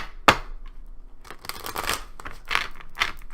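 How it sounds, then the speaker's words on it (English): Crisp papery riffling and slapping of tarot cards being shuffled, a sharp snap followed by several bursts of rustling, close and fairly quiet. "One more shuffle."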